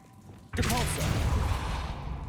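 A Depulso force spell cast in the video game Hogwarts Legacy bursts in suddenly after a quiet moment, a loud whooshing blast with a brief swirling tone that fades over about two seconds.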